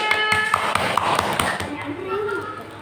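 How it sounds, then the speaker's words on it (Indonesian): A classroom of children gives a group a round of applause, with scattered, fairly sharp claps and light taps under children's chatter. "Beri tepuk tangan untuk kelompok 2."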